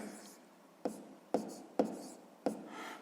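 Pen strokes writing math on paper during a sixth-grade exercise, with about four distinct scratchy strokes at a steady pace, close up and moderately loud over a soft background hiss.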